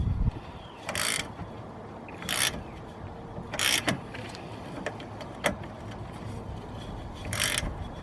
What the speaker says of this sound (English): I actually have a ratchet spanner, which makes it a little bit easier to undo the nut.